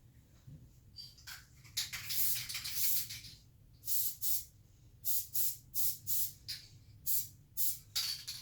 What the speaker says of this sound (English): I'm just going to spray it again real quick.